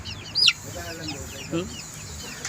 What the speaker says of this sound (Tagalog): grabe yung mga sisiw natin dito sa farm, oh.